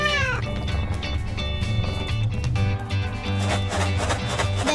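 A cartoon cat meows over busy background music and effects, with several short mewing cries rising above the bright, loud soundtrack.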